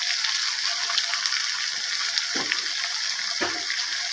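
Water added to ground cumin and coriander in a hot pan for a fish curry, a continuous hissing sizzle with a couple of soft stirring scrapes.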